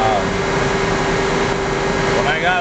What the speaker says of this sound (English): You can jog the spindle just by holding it.